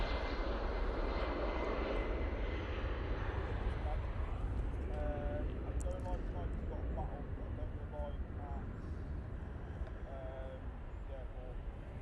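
An Etihad Boeing 787-10 Dreamliner touches down at Manchester Airport, a moderate continuous jet roar with rising whine tones in the middle, distant and steady, with some faint talking in the background.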